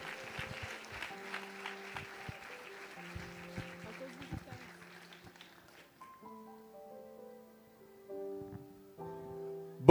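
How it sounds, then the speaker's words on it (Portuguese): A church congregation applauds during a Sunday morning service celebrating a pastor's 25 years of ministry. The clapping is dense and steady, then fades after several seconds as sustained keyboard or organ notes take over. "Se você crê nisso, aplauda ao Senhor,"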